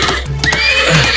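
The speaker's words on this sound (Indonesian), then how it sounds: "Kuda itu liar sekali." A wild horse lets out a short, loud, close whinny that lasts about a second.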